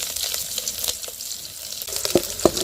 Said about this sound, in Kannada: ಸ್ವಲ್ಪ ಸಾಸಿವೆ ಹಾಕೋತಾ ಇದ್ದೀನಿ ಸಾಸಿವೆ ಚಿತ್ರಪಟ ಅಂತ ಇದೆ